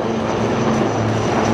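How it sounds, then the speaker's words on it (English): Indian Army HAL Rudra advanced light helicopters Mark IV fly overhead at an air show, giving a steady, continuous engine and rotor roar with a constant low hum and no voices. "you can now see the advanced light helicopters Mark IV of the Indian Army, known as the Rudra"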